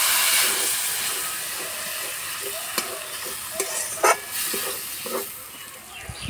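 Water added to besan pakora curry frying in a pan, a loud broad sizzle and steamy hiss that fills the scene, with several stirring scrapes and clinks of a spoon against the pan, close up.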